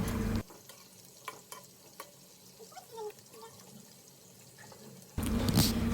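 Potatoes with spices frying in a pan for a tomato curry, a soft sizzle with scattered stirring clicks between louder stretches at the start and end.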